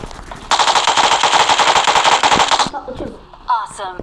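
Gunfire in PUBG Mobile: a loud, sustained automatic burst of rapid shots lasting about two seconds, then a few scattered game sounds and a brief voice near the end.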